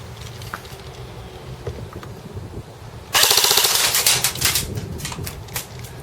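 A Cybergun CYMA Galil airsoft rifle with a 9.6 volt battery firing full auto, a loud close rapid mechanical rattle that starts abruptly after quiet background and runs for about three seconds.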